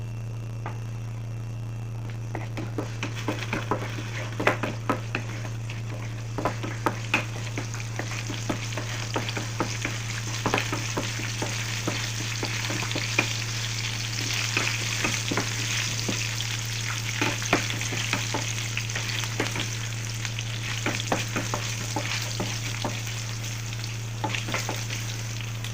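Cumin, green and red chillies and curry leaves frying in oil for dal, a steady close sizzle with crackles and occasional stirring scrapes, under a constant low hum, no talking.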